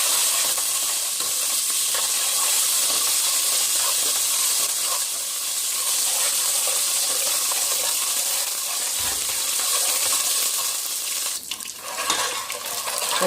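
Epis seasoning frying in oil in a pan for a gluten-free chicken pot pie, a steady loud sizzle and hiss lasting throughout, with a brief stir near the end.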